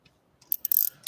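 Small clicks and ratcheting taps from tightening an engine valve adjuster, a few short mechanical bursts near the mic after a quiet start, with no talking.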